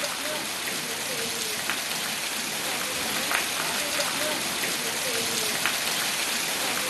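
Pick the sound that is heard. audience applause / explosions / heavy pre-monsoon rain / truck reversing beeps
heavy pre-monsoon rain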